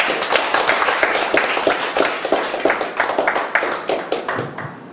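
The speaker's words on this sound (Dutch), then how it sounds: "Oké, applaus." Audience applause after a student presentation, a room of people clapping steadily with distinct hand claps in an uneven patter that thins out toward the end, fairly close and loud.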